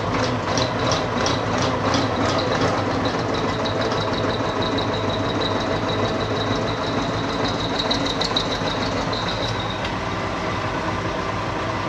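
IHC 1055 tractor diesel engine running cold and slightly rough, a steady close knocking idle with a constant mechanical clatter and no voices.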